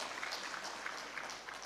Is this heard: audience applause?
yes